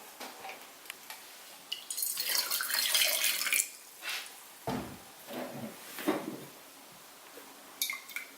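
Hot water poured over oil for a solubility test, a splashing, trickling flow that swells into a louder gush for a couple of seconds, then breaks into scattered drips and small splashes, with no talking.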